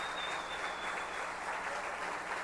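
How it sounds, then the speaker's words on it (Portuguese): Congregation applauding during a Portuguese-language church service, a soft, distant wash of many hands clapping heard steadily throughout, fairly quiet in a reverberant room. "Dá um aplauso para Jesus aí"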